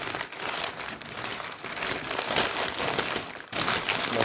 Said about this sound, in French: On va froisser ce papier journal autour des bulbes